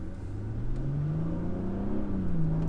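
A Stage 1 tuned BMW 440i pulls away from a green light, its engine note rising steadily and staying loud and close with a continuous turbocharged drone, no talking.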